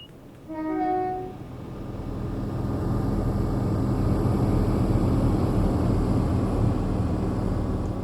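A Class 170 diesel train in Train Sim World 5 roars loudly outside like a jet engine while slowly gaining speed uphill, a steady heavy drone that swells and holds, with a brief horn-like tone near the start.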